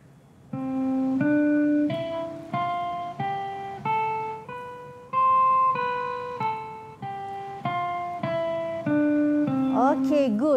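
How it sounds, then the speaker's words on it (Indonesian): Guitar playing a major scale, a steady run of single notes climbing step by step and then coming back down, each note clear and evenly spaced, with a brief flourish of higher tones at the end. "Okey, cuba menaik dan menurun."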